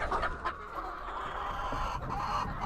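Several chickens, including large-size native hens in a backyard laying area, cluck softly and intermittently at close range over a low ambient background, with no talking.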